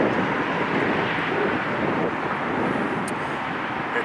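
An airliner departs Long Beach airport, producing a loud, steady jet roar heard from nearby with some wind noise.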